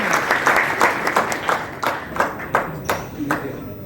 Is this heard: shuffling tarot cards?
no